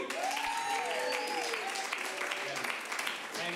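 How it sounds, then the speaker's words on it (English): Crowd at a Friday night fight event claps and cheers for a booth technician, steady applause with a voice talking over it. "I do want to give a big round of applause to our tech in the booth"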